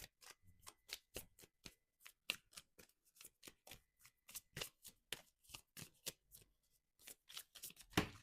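Tarot cards being shuffled and pulled during a reading, heard as a string of sharp, crisp riffles and flicks in irregular bursts over quiet gaps, close and clear with no talk.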